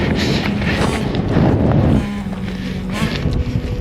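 Strong wind sweeps across a vast open plateau during a long-distance foot race, roaring and buffeting the microphone in loud, continuous gusts that ease slightly midway.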